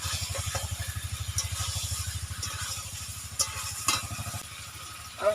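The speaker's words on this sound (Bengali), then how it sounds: "সেই বাটিটা দিয়ে আমি একটু জল দিয়ে দিচ্ছি" Water splashes into a pan of sautéed marinated potatoes for a tangy, spicy South Indian yogurt aloo dum, giving a steady close sizzle over a low hum, with a couple of brief clinks near the end.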